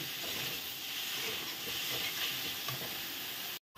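Mashed taro stem sautéing in ghee gives a steady, hissing sizzle with light stirring underneath, before cutting off abruptly near the end, no voices.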